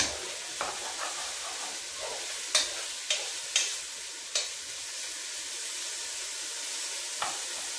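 Pieces of pork belly frying in a pan for a quick pea soup: a steady, close sizzle with sharp clicks and scrapes of stirring scattered through, and no talking.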